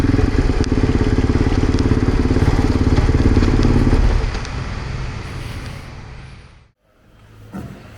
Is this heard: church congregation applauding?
no